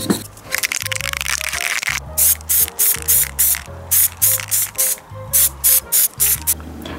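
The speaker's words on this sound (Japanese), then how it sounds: "グレー色のねスプレーをサーフェイサーとして拭くことで" Gray surfacer primer hisses from a spray can onto a 3D-printed model. One long continuous burst comes first, then a string of short, loud, evenly spaced sprays with a rattling, pulsing low rumble underneath.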